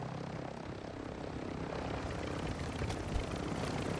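A helicopter in a video game drones with a steady, loud rotor and engine roar that continues throughout.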